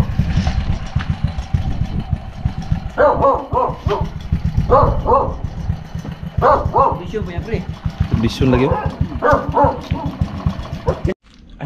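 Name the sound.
cruiser motorcycle engine running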